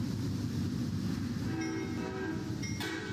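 Amtrak train pulling into Naperville station in the Roblox Metra Train Sim game, a steady loud rumbling rail roar with a horn-like tone emerging partway through.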